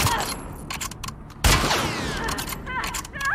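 Gunfire in the video game The Last of Us Part II rings out in several sharp reports, one loud blast midway followed by scattered shots and clattering mechanisms.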